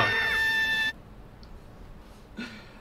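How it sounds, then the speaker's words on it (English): Video game main character lets out a sharp, strained scream lasting under a second, loud and tonal, followed by near silence with a faint low game ambience and a small later sound. "That was Vespi with the scream"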